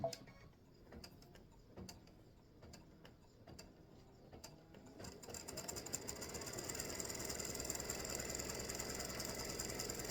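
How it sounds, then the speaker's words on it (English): A sewing machine satin stitching around the edge of a small gift tag pendant. Sparse ticking clicks come first, then a continuous close whirring drone builds and holds to the end. "we're ready to go with the satin stitch around the edge"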